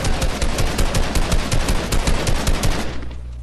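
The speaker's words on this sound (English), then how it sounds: "SMG." Submachine gun fire from a video game rattles in a loud, rapid, continuous burst of closely spaced shots for nearly three seconds, then cuts off abruptly into a low hum.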